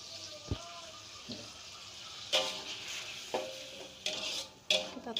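Rendang spice paste stir-fried in a pan, with intermittent scraping and clattering strokes of a utensil against the pan over a soft background sizzle, several distinct bursts spread across the stretch.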